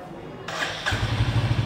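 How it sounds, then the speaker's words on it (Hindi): Royal Enfield Hunter 350 motorcycle starting on a single attempt: a starter whir, then the engine catches into a thumping, rhythmic single-cylinder exhaust idle, close and clear. "इंजन साउंड सुनते हैं, एग्जॉस्ट नोट सुनते हैं।"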